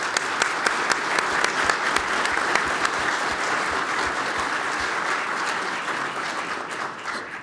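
An audience applauds the panelists after a session on the nuclear fuel cycle: sustained, even clapping from a room of people, fairly close, fading slightly toward the end, no voices over it.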